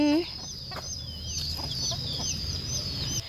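Chickens cluck and chatter on a rural Lao farm, with high bird calls and crowing-like cries repeating over a steady low background hum, close and continuous for the whole stretch.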